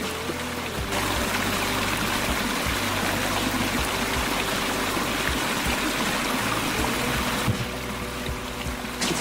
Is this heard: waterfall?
yes